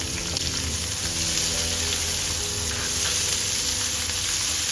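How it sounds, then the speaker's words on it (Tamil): Onions and cumin seeds frying in hot oil in a pan, a steady loud sizzle with crackling that runs the whole time, no voices. "இப்போ சீரகம் நல்லா பொரிஞ்சதும் வெங்காயம் போட்டுடலாம்."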